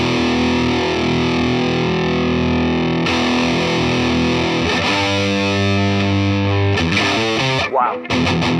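A Line 6 One pedal's Legendary Drive distortion on a single-coil Telecaster, heavily overdriven and loud, with chords ringing out steadily and changing partway through before a short break near the end.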